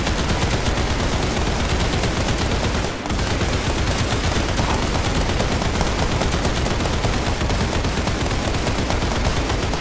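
Dense, continuous automatic gunfire in the zombie shooter game Zombie Survivors, a loud sustained rattle of rapid shots with only a brief break near the third second.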